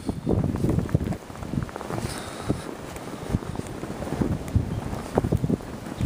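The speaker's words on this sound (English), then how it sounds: "you might be able to hear the wind." Wind gusts through Norman, Oklahoma during a February 2011 snow storm, rumbling and buffeting the microphone outdoors with uneven bursts of low roar and no speech.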